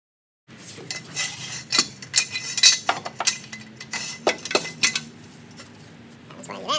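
A metal car jack is set and positioned under a car's frame lip during an oil change, giving irregular close metallic clinks and clanks of moderate loudness with brief gaps between them.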